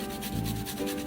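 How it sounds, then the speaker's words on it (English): Fresh coconut rubbed against a regular hand grater in a kitchen, giving repeated rasping scrapes in a steady back-and-forth rhythm, close and moderately loud, with no talking. "It's very easy to grate using a regular grater."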